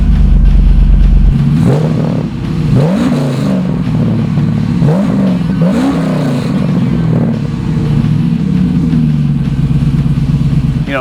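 A 1969 Chevrolet Camaro SS Pro Touring engine cranks and catches, then revs in several loud rising bursts before settling into a rumbling idle, heard up close.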